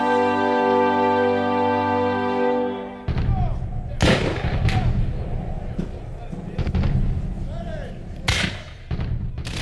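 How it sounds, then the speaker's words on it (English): Sharp booms and cracks of cannon and rifle fire ring out at irregular intervals, some loud and close, others distant, over a rumbling, crowded background after a sustained tone. "cannons blasting, rifles crackling"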